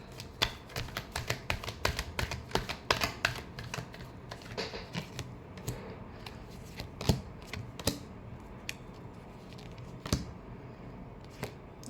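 Tarot cards being shuffled at close range, a quiet, steady run of crisp papery flicks and taps with no talking.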